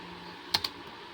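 Two quick, close key presses on a computer keyboard come during Windows 10 formatting, sounding as light sharp clicks over a faint steady hum.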